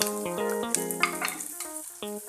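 Dried onion sizzling in a pan as it is stirred and mixed, a soft frying hiss with light scraping, heard alongside sustained musical tones.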